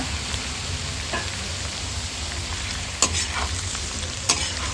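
Pork with curry leaves frying slowly over a low flame, Coorg style, a soft steady sizzle with occasional stirring scrapes and two sharper spatula knocks near the end; no voices.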